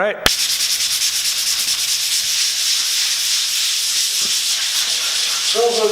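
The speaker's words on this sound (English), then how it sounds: "we're going to knock the first coat down with some 220 sandpaper" Steady, close-up sanding of a locust table top with 220-grit sandpaper, knocking down the first coat of finish in a lamp shop; a continuous dry rubbing hiss runs unbroken for the whole stretch.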